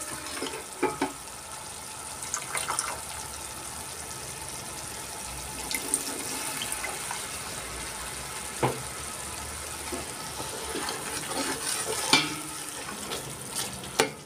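Spice paste for Johor mee rebus, with a little tamarind water added, sizzles and crackles steadily in a hot pan, with occasional sharper pops and stirring scrapes throughout.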